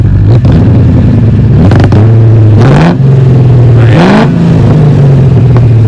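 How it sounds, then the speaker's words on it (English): A Rover SD1 V8 is blipped repeatedly from idle, each rev rising sharply and falling back to a deep, loud exhaust burble, heard up close with no talk. "you can hear it from the exhaust side as well. Because if you're like me, you do like a good exhaust burble. So yeah, if you just give it a rev."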